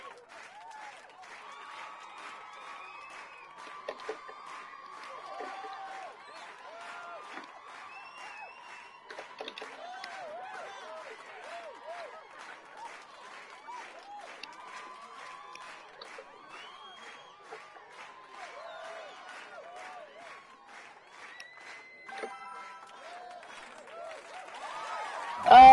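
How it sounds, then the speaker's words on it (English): Crowd applause and cheering in Rock Band 4, a steady wash of clapping and whoops that sits under a player's voice and music. "That's why everyone's clapping"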